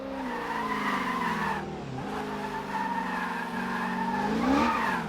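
A race car brakes hard into the Hammerhead corner, its tires skidding and squealing in a loud, continuous screech over the engine note, with a brief dip midway before the howl resumes and rises near the end.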